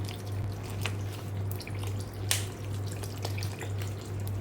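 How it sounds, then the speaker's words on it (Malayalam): Cold tap water is poured over freshly cooked rice ada draining in a strainer for Kerala-style ada pradhaman, a steady close trickle and patter over a low background hum. "ഉടനെ തന്നെ നമുക്കിതിൻ്റെ മേലെ കുറച്ച് വെള്ളം കൂടെ ഒഴിച്ചു കൊടുക്കണം, പച്ചവെള്ളം."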